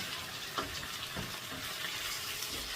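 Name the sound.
stirring brinjal frying in oil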